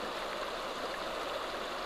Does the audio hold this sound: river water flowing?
yes